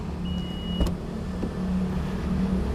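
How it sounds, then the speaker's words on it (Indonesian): A 2018 Honda CR-V Turbo Prestige power tailgate opens with a quiet electric motor whir and a brief high whine, then a click or latch thump partway through, heard close in a showroom. "ini bagasinya sudah power back door pastinya, dan ini nggak ada macet sama sekali"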